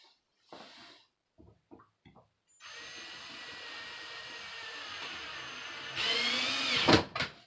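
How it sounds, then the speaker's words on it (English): A power drill drives a screw into a water filter mount: a few short bursts of handling noise, then a steady close whine for several seconds that rises in pitch and loudness as the screw seats at the end. "You can watch me put the other screw on it."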